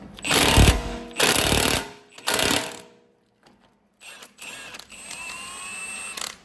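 A 6-point hex bit socket on an impact tool loosening a heated bolt on an Audi A5 during front brake and wheel bearing work: three loud rattling hammering bursts, then quiet and lighter mechanical whirring and clicks.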